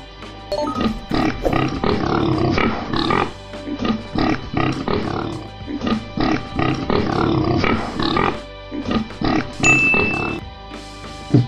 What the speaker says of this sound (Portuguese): O porco é um mamífero que se alimenta de verduras, legumes e grãos.